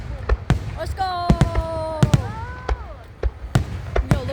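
Independence Day fireworks explode nearby in a string of sharp, loud bangs at irregular intervals, with whistling streaks rising between them and people talking excitedly close by.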